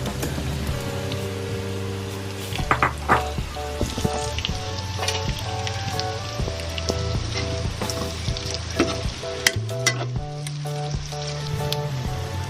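Meat and garlic fry for humbang in a pan, a steady crackling sizzle with scattered pops, spatters and a few utensil clinks, close and without speech.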